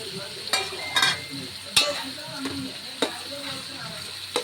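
Cucumber, brinjal and drumstick pieces are stirred as they fry in a pan, with a constant sizzle under repeated sharp scrapes and clinks of a spoon against the metal, close and clear.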